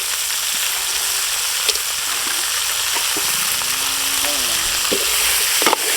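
Crab frying in a pan with onion, tomato and garlic gives a constant dense sizzle close by, with a few sharp clicks and a short faint voice-like tone in the middle.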